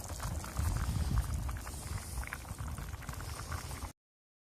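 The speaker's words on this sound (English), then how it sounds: "The lentils are softening good, and it's starting to thicken." Lentil and Spam soup bubbles and simmers in a pot over a backpacking wood stove outdoors, a close, steady thick burbling with soft popping and patter, continuing alone until it stops abruptly.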